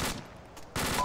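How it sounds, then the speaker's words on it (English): Two short bursts of heavy 50 cal machine gun fire ring out in the ArmA 2 video game, fairly loud and rapid, with a brief gap between them. "There's an APC with a 50 cal to the northwest."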